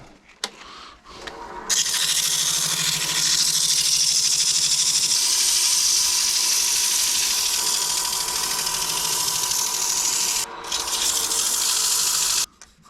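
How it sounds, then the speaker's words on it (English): Sandpaper rubbing across a wooden honey pot gives a steady, close, broadband rasping sound that runs for about nine seconds. A brief pause breaks it near the end, and no one speaks. "Let's get a little sandpaper and see if we can sand that out."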